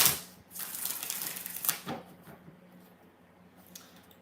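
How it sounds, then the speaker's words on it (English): A deck of tarot cards is shuffled by hand, giving a quick crisp riffle of papery flutter that ends in a sharp snap near two seconds, then dies away to quiet rustling. "3 more shuffles."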